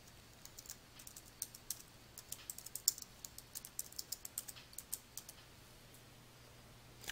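Keys on a computer keyboard are typed in a steady run of light, quiet clicks as text is entered into a PDF watermark text box, with no talking.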